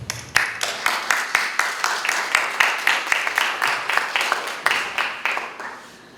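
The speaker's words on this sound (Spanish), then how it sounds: "Quisiera recibir con un fuerte aplauso." Audience applause at an international academic congress session: a crowd claps steadily, with one loud nearby clapper beating a quick, regular rhythm on top, fading in the last second.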